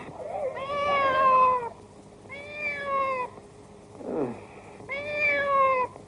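A cat meows three times, each a drawn-out close call, with a short scuffling noise between the second and third meows.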